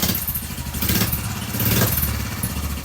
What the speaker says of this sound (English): I do, however, have the moment I got the lights and the front controls to work, and soon after, get the bike started.